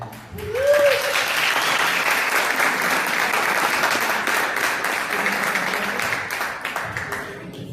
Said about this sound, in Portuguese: Um aplauso para a vida dele